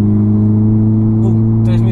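A VW Golf R engine revs hard toward a gear change around 3,000-plus rpm, a loud steady droning growl heard from inside the car, with speech over it and a brief higher burst near the end.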